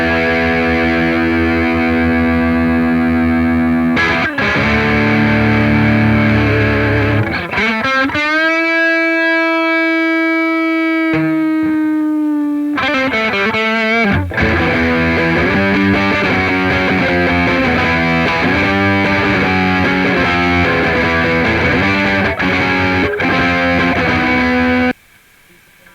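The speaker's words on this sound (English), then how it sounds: "now we'll add a bit of dirt by bringing in some drive with the Durple" An electric guitar plays through a Durple drive pedal on a pedalboard, giving a loud, gritty distorted tone with sustained notes, bends and a few pauses between phrases.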